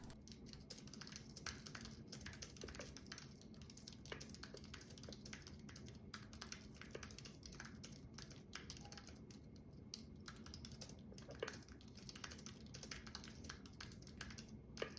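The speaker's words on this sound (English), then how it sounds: "Let's go ahead and do a quick typing test." Steady typing on a computer keyboard at a Mac Studio desk setup, a continuous fast patter of light key taps, fairly quiet and close, with no talking.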